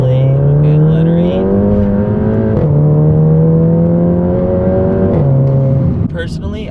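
A VW GTI fitted with an IS38 turbo accelerates hard, its engine note climbing steadily, dropping at each early upshift around the third and fifth seconds, then climbing again. The loud, close drone fills the cabin and trails off at the end.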